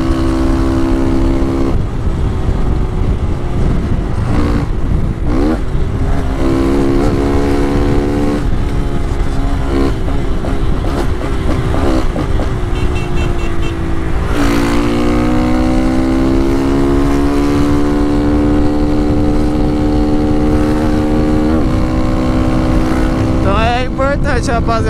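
A Honda Titan 160 motorcycle engine drones steadily throughout, its pitch sliding down and rising again as it revs through a turn, with wind rushing over it.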